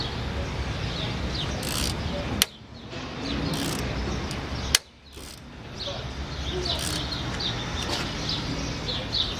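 Ratchet working against a frozen 12 millimeter bolt on a 2011 Subaru Impreza, giving steady mechanical clicking and grinding under background hiss, with two sharp snapping transients standing out.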